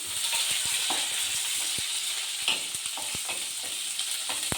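Green chilies, curry leaves and onions frying in hot oil for a village-style curry, a continuous hissing sizzle punctuated by frequent small pops and crackles.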